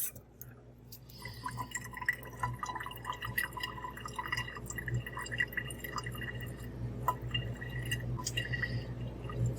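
Water trickles and drips over an agate-like beach rock, small splashes and wet patters close by, irregular and fairly faint against a low outdoor hum.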